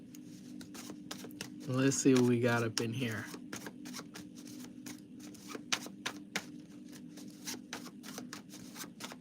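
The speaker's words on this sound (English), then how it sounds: "Let me start shuffling this up here." A deck of cards is shuffled in quick riffles and soft slaps, someone briefly talking over the start before the crisp shuffling continues on its own at close range.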